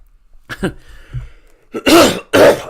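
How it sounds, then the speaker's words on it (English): A throat clear followed by two strong, close coughs near the end, after a quieter breathy start, during a live watchalong of Manchester United versus Everton. "just made myself cough by doing that"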